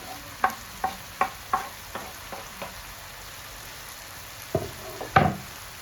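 Carrots, potatoes and onions stirred in a frying pan, with a series of sharp scraping strokes against the pan in a loose rhythm over a faint steady sizzle, then a couple of louder scrapes near the end; no talking.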